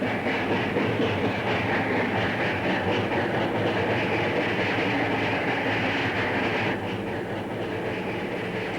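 Steam locomotive 2882 working on Tennessee Pass gives a loud, steady rumbling roar with continuous rail clatter, unbroken and close throughout.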